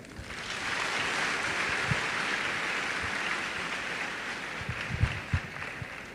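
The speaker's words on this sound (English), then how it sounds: "I think that round of applause is not sufficient for him." An audience gives a round of applause at a 2023 induction event, a steady, somewhat distant wash of clapping with a few sharper claps near the end.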